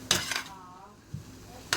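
Utensil clinks and scrapes against a pan as flour is stirred into melted grease for Salisbury steak gravy, a few sharp knocks with quiet mixing between.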